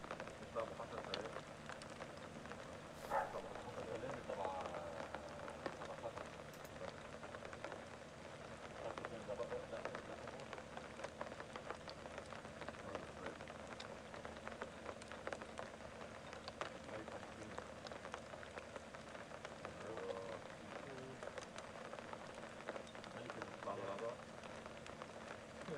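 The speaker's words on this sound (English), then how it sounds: "What you can hear there is the sound of rain." Steady rain patters on a surface with soft, continuous hiss and scattered drips, fairly quiet and distant, with faint voices in the background.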